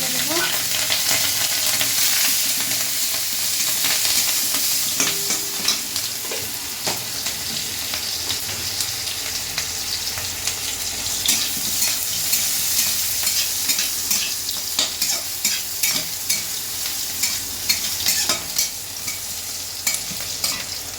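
Chopped onion and chili sizzle steadily in a pan of cumin-tempered oil, a continuous hiss with occasional stirring scrapes and clinks, close and alone for the whole stretch.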